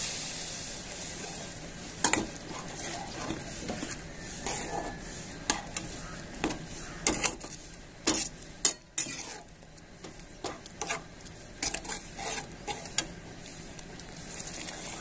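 Boiled moth beans stirred into frying masala in a pan, a soft steady sizzle beneath scattered scrapes and clacks of a spoon against the pan, close and moderately quiet.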